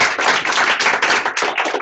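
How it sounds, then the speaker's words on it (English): Audience clapping at a student showcase event, brisk overlapping handclaps, close and loud for a brief burst. "So I'd like to give them a round of applause"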